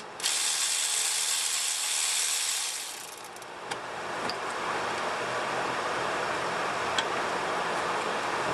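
Electric ratchet spinning off crusty 12 mm nuts on a 2005 Toyota Tacoma 2.7 L engine: a loud steady mechanical whir for about three seconds, then softer continuous buzzing with a few sharp clicks.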